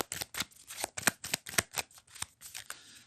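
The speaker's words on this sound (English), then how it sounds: "grab the cards, give them a shuffle" Deck of game cards being shuffled in a riffle, a rapid series of crisp papery flutters and slaps in quick bursts, close and fairly quiet with no talking.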